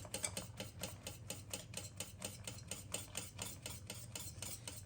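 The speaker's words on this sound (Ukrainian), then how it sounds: "знову трошки влили і далі помішуємо." Beaten eggs stirred into a Spartak cake mixture warming over a steam bath, heard as a steady, fast rhythm of close stirring strokes scraping the bowl, with no talk.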